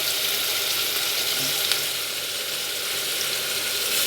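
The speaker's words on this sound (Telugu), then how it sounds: "ఇవన్నీ బాగా వేగాలి" Mint and coriander leaves fry in a pan for chicken dum biryani, a steady close sizzle with light crackle and an occasional scrape of stirring, no talking.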